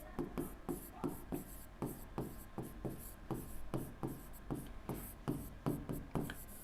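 Chalk or pen taps and scratches out numbers in quick strokes during a Hindi-medium maths lesson on multiples of 20, close and dry with brief pauses between marks.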